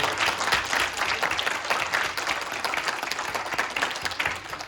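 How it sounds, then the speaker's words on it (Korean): Church congregation clapping in steady applause at a Christmas worship service, a dense, even wash of many hands close by with no talk over it. "우리 하나님께 영광 박수 올려드립니다."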